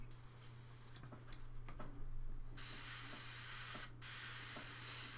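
An airbrush hisses in short and longer bursts against a low steady hum, the hiss faint and close, with brief gaps where the spray stops.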